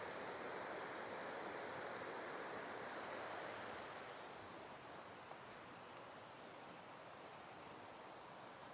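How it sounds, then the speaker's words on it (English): Water pours down a waterfall in a forest on Michigan's Copper Country, a steady broadband roar that dips slightly partway through and carries on without any voices. "I just can't ever pass up a good waterfall."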